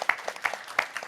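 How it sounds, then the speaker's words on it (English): Sparse audience applause at a cast Q&A panel, a handful of separate claps in a brief, faint patter. "Round of applause"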